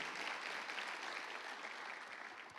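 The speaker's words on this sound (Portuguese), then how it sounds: "Pode aplaudir, Senhor" Congregation applause during a church sermon on evangelism, a faint, steady, distant patter of many hands clapping that carries on evenly throughout.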